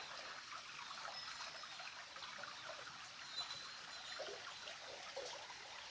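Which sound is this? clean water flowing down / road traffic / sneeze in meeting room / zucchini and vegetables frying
clean water flowing down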